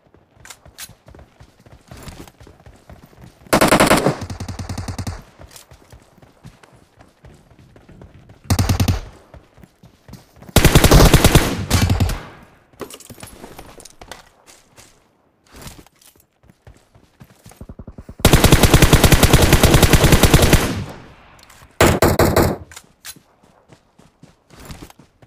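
Bursts of automatic gunfire in PUBG Mobile, several loud rapid volleys separated by quieter stretches of footsteps and small game sounds, with no talking.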